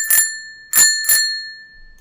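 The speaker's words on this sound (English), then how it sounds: "I'm going to ring the bell." A small bell rung live in a podcast studio, three bright metallic dings, the second and third close together, each ringing out briefly, loud and close with no talk over them.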